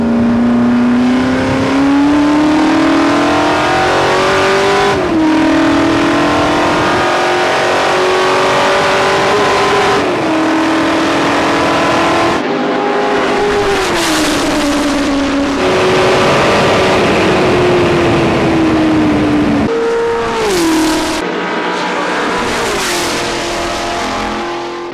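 Ford GT40 race cars at full speed during a race at Road America, loud continuous engine howl with rising pitch sweeps through each gear and abrupt drops at shifts, several upshift cycles over about twenty-five seconds.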